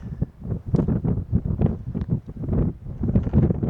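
Cold wind buffeting a microphone outdoors on a backpacking trip, with loud, gusty rumbling bursts that rise and fall irregularly throughout.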